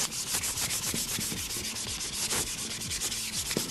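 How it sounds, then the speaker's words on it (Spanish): Sandpaper rubs along a cardboard edge in quick, rhythmic back-and-forth strokes, close and steady, a dry scratchy scraping with no talk. "Y vamos a lijar un poquito el borde."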